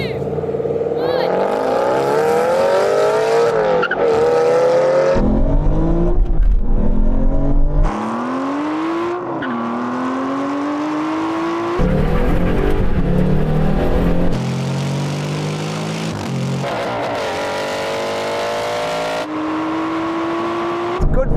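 An Aston Martin racing car accelerates hard in a drag race, rolling on from first gear toward the half mile. The loud engine climbs in pitch through each gear, with abrupt drops at the upshifts, for the whole run.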